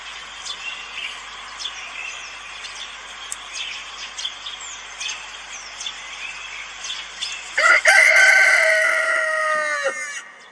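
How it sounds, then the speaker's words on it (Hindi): Rooster crowing out in the open, with faint chicken clucks and chirps scattered over a quiet background before one loud, close crow rises and fades away near the end. "कॉक, कॉक मीन्स मुर्गा।"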